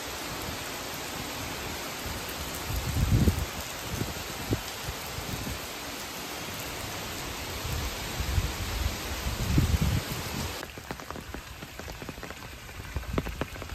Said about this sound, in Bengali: বাতাস এবং বৃষ্টি চলে যাচ্ছে।